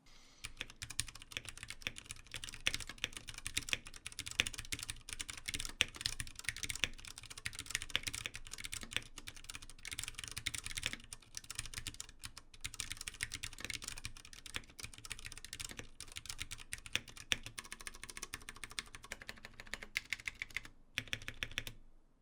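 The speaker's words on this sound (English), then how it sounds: "I got my One 2 Mini with Cherry MX Brown switches, and as you guys could expect from one of my videos," Typing on a Ducky One 2 Mini 60% mechanical keyboard with Cherry MX Brown switches: a continuous, fairly quiet stream of close key clacks at a fast, uneven pace, with no talking.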